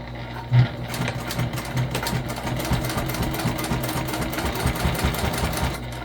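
A domestic sewing machine runs steadily, its rapid rhythmic stitching clatter continuous as binding is sewn onto a fabric waist pack, close and fairly loud with no voices.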